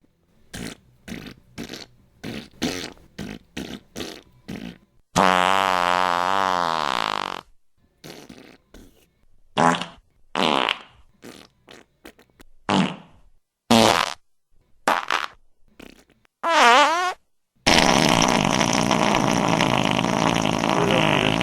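A long series of farts plays one after another, some short and sharp, others long, buzzing and drawn out. They come with gaps between them, loud and close, with no talking.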